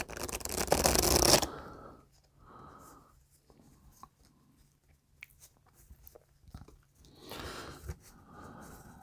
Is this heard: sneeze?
no